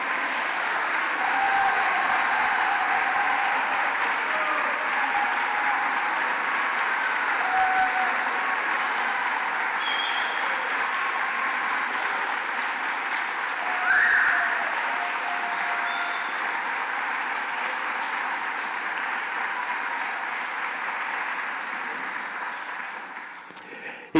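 Sustained applause from a concert audience cheering musicians at a New Year show, a dense steady wash of clapping that holds for over twenty seconds before slowly thinning toward the end.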